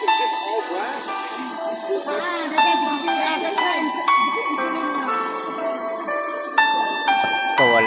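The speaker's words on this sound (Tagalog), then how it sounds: "Yung tunog ng alarm." An alarm plays a repeating electronic chime melody of bright, bell-like tones, steady and fairly loud throughout, with people talking underneath.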